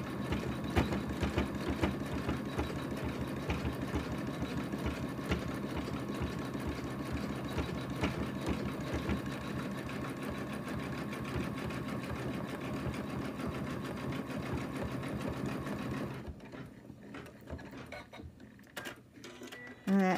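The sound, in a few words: embroidery machine stitching an in-the-hoop lamb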